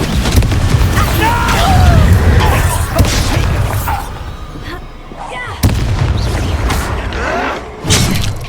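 A Confringo explosive spell bursts in Hogwarts Legacy video game combat, with loud booming blasts and crackling impacts over busy battle noise, sharp hits near the middle and near the end, and voices heard during the fight.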